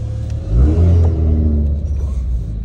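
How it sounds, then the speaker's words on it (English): A BMW M340i engine revs up hard from a steady idle, surging into a loud, rising growl that holds and then eases back to a deep rumble. "Car sound too good."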